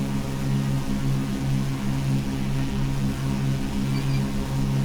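Piper Saratoga single-engine light aircraft at full power on its takeoff roll, a steady loud droning engine hum with strong low tones, continuous and unbroken, no talk.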